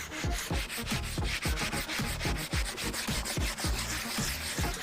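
A black wooden cutting board is scrubbed by hand with steady back-and-forth strokes, a rhythmic rasping rub repeating about four times a second, loud and close with no talk.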